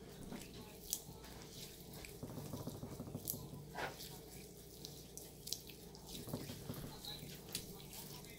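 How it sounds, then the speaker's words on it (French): Hands rinsed under lukewarm water at a sink, a continuous faint running-water splash with small patters and drips, heard close by with a soft background hum. "Je me suis rincé les mains avec de l'eau tiède."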